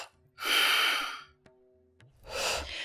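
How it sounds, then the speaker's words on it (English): Two strong pulsed breaths close up: a forceful rushing breath, a short pause, then another sharp breath, taken in a paced rhythmic breathing exercise for meditation, with no talking. "These are strong, pulsed breaths with the eyes barely open"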